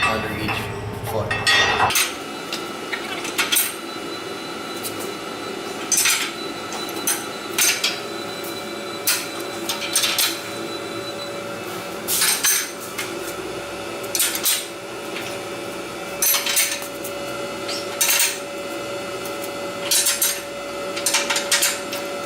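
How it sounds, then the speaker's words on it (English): Metal shims being placed under motor feet after bolts are loosened during a direct drive alignment, heard as repeated sharp metallic clinks and clanks in short bursts, close by, over a steady background hum. "I'm going to loosen these bolts up and provide the shims that are needed"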